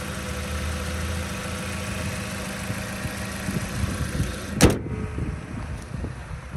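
A 2011 Jeep Patriot's 2.4-liter four-cylinder engine runs at a steady idle nearby, a low even hum, broken near the end by a brief sharp thump.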